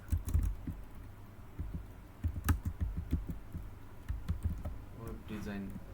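Keys clatter in irregular bursts on a computer keyboard as someone types a short line of text, close and fairly quiet, with soft low background noise and a brief voice near the end.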